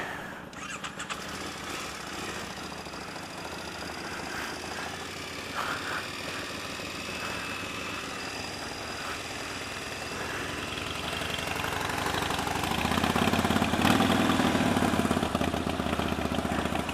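A car engine idles fast on choke, a steady close mechanical drone that grows slightly louder and rougher toward the end.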